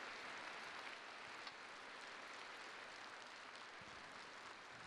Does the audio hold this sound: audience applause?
yes